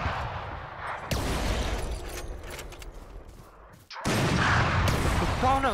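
Video game gunfire: dense bursts of shots and blasts fill most of the span, cut by a short silent gap, then loud firing resumes at close range.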